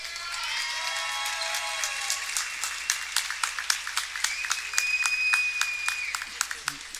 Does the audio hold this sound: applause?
yes